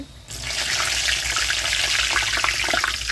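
Singaras deep-frying in hot oil are lifted out of the pan, giving a close, loud, continuous sizzle that starts abruptly and holds steady with crackling bursts and no talking.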